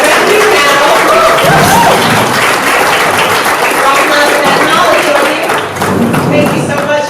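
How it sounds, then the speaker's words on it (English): An audience at a cannabis town hall applauds the candidates with sustained, dense clapping that fills the room. Voices call out faintly underneath. "Another round of applause for the candidates at Revenue Now."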